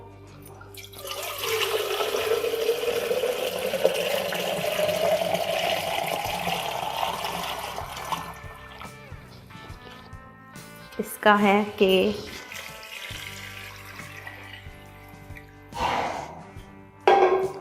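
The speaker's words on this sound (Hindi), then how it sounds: "इसमें डाल देंगे हम बहुत सा पानी" Water pours steadily into a cooking pot for bong paya, the tone rising as it fills, followed by clinks and brief speech.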